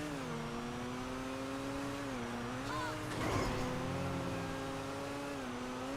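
Engine of an Overflod Entity XXR supercar, a Koenigsegg Agera RS copy in GTA Online, holding a steady high whine that dips and cuts out briefly around a bump midway, then resumes at a constant pitch.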